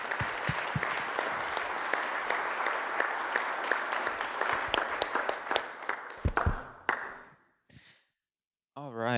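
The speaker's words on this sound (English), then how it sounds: "Give them a round of applause" An audience at a One Million Cups Kansas City gathering breaks into lively applause, with sharp individual claps over a full crowd that thins out and stops, leaving a short silence before a voice starts.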